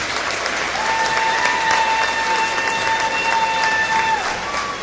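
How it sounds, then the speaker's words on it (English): A crowd in a school gym applauds steadily through a basketball senior night recognition, a dense, even wash of clapping with whistle-like tones and a sustained voice-like tone running over it. "Please give a round of applause to our senior"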